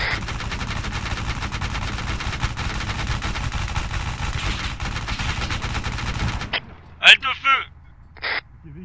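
Machine gun fire from a VAB armoured vehicle in Arma 3, a sustained, dense rattle of automatic bursts for several seconds that cuts off abruptly, followed by a few short voice radio transmissions.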